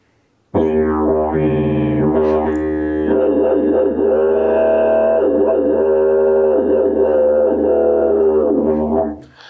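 A didgeridoo played to imitate a dingo howl: a steady low drone with rising and falling wavering howl-like tones layered on top, loud and close, sustained for about nine seconds.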